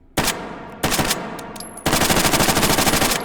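Lapa Brazilian submachine gun firing in the H3VR shooting game: two short bursts of rapid automatic fire, then a longer sustained burst, loud and close with a sharp crackling rattle.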